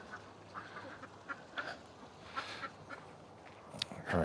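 A stuck duck at a ranch quacks in several short, scattered calls of varying loudness over quiet morning chore sounds, with a louder burst at the end.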